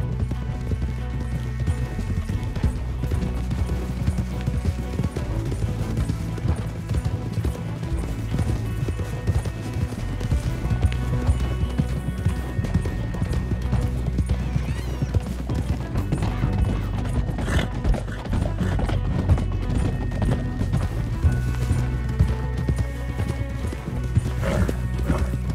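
Horses gallop in Red Dead Redemption 2, with continuous clip-clop hoofbeats and an occasional whinny over a low, steady rumble of music and ambience throughout.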